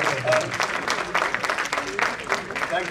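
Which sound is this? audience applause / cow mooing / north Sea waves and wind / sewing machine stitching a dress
audience applause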